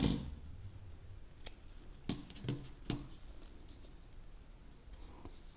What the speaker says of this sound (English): I just go ahead and I snip my yarn